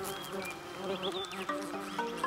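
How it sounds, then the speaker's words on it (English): Paper wasp buzzing with a steady insect drone, close and continuous, wavering tones rising and falling over a busy natural background. "The paper wasp."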